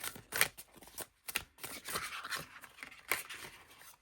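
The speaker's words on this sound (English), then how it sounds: "Let's give it a shuffle." Overhand shuffling of a deck of tarot cards, a dry papery riffling in several short bursts at close range with brief gaps between them, with no talking.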